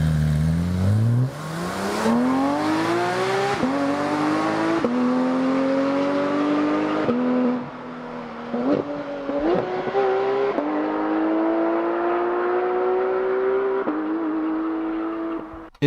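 A Porsche 911 GT3 with a 4-litre naturally aspirated engine revving to high rpm, climbing through gears with a rising howl, brief dips at each shift, loud and sustained at close range.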